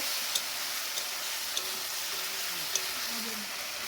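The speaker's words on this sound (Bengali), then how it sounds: "আদা, লঙ্কা আর জিরে বাটা একসাথে দিয়ে এটাকে একটু ভেজে নিচ্ছি" Ginger, chili and cumin paste frying in a pan, a steady even sizzle with a few sharp ticks of stirring, fairly close and alone without talk.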